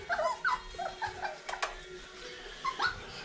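Young puppies whimper and yip close by in several short, high-pitched cries spread across a few seconds, with soft shuffling in between.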